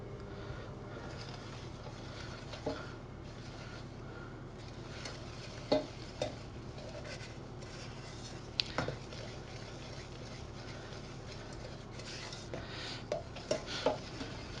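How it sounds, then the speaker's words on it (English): Lemon curd being stirred in a pan on gentle heat, a soft continuous scraping and swishing with faint light clinks, close and quiet with no talk. "we're going to keep stirring this until it becomes a thick lemon curd"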